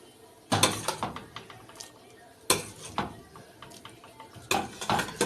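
Metal clanks and scrapes as a clay tagine dish of beef tripe and intestines is pushed into a home oven. There are several close bursts of rattling cookware and oven-rack sounds, with brief quiet gaps between them.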